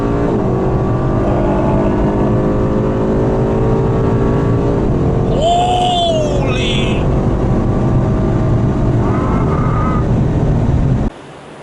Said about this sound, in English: enjoy the sound of this engine.